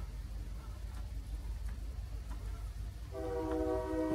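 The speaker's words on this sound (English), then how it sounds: "You can hear the old freight train coming through." An old freight train passes some distance away, first as a steady low rumble and then, in the last second, a sustained multi-tone horn blast that grows louder.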